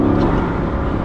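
A 1,500-horsepower Bugatti Chiron accelerating to merge into traffic gives a loud, close, steady engine roar over one brief stretch.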